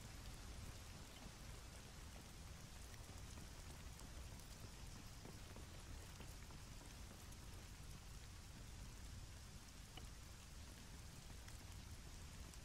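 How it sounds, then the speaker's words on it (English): Steady rain in the game Arma 3 hisses continuously at low volume, an even wash of patter with no voices or other distinct sounds. "the lovely noise of rain"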